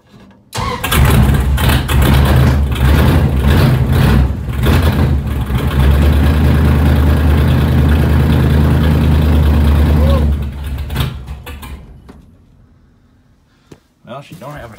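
A 1971 Plymouth Barracuda engine with open headers and no choke fires up and runs loud and rough with a deep, uneven rumble for about ten seconds, then cuts off and fades to quiet.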